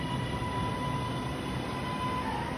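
A train rumbles steadily past close by near Kirkstall station in Leeds, a continuous broadband roar with a faint high whine running through it, with no voices over it.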